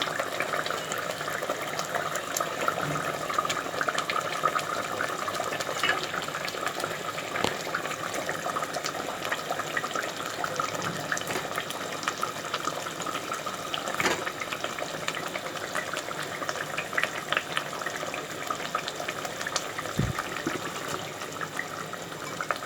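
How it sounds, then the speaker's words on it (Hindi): Leftover water poured into a pan of koftay curry, a steady running, gushing pour of liquid lasting throughout, close and fairly loud with no talking. "और जो पानी बचा हुआ था वो भी डाल देंगे।"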